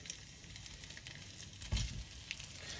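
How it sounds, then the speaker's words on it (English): Fish sticks fry in a pan over high heat, giving a soft, even sizzle with faint crackle and one brief louder clatter as pieces shift, all fairly quiet and close. "we're just going to throw the fish sticks in the pan and we'll fry these up a little bit"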